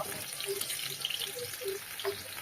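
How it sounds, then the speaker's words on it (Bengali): Stingray fish frying in hot oil, a continuous sizzle with sharp crackling pops and spatters, close and fairly loud. "ভীষণ ছটপট করে এই মাছগুলো তেল ছিটকায়"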